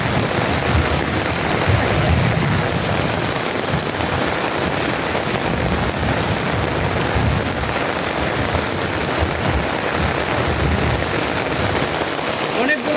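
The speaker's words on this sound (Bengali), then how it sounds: "মানে প্রচুর বৃষ্টি হইতেছে" Heavy rain pours down in a dense, loud, unbroken roar over fields and a pond, staying steady from start to finish.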